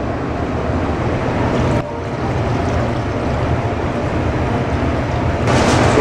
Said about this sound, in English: we're just gonna go ahead and top it off with some water